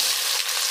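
Onions dropped into hot oil with dried chillies and bay leaf for a Bengali chicken curry, a bright, loud hissing sizzle heard close up, brief and steady.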